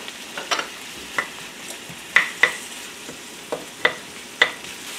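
Vegetables sauté in a little oil with salt in a pan, a steady soft sizzle broken by repeated sharp scrapes and taps of stirring, close and clear.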